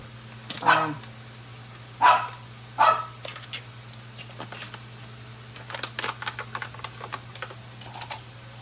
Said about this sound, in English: You don't need to be barking